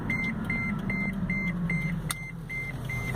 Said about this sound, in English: here comes the beeping again.